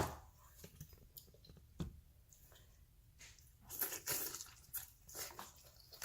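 Someone bites into and chews food close to the microphone, with a sequence of soft, crunchy bites and moist mastication, quiet and intimate, with no talking.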